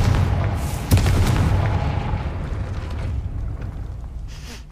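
A Confringo explosion spell fired in the Hogwarts Legacy video game lets off a loud, rumbling blast with a sharp crack near the start, followed by a sustained roar that slowly fades.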